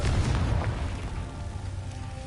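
A Confringo spell explosion in the video game Hogwarts Legacy booms with a deep low rumble at the start, then fades into a softer crackling tail with no talk.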